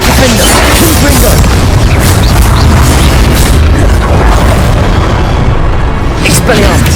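Confringo fiery blast spells in the Hogwarts Legacy video game, a loud, dense barrage of booming explosions and crashing bursts filling the whole stretch, with battle voices mixed in.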